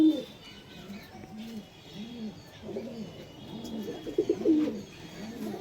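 Repeated soft cooing from a domestic pigeon, one of a black-tailed, black-faced, black-breasted fancy breed kept for sale, in a low rhythmic series of rounded calls with faint background chatter.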